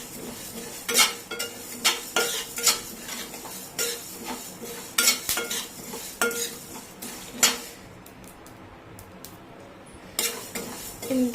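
Spices and coriander fry in a pan for a salmon fish curry while a spoon stirs and scrapes against the metal in quick, uneven strokes over a soft sizzle, with a short lull near the end.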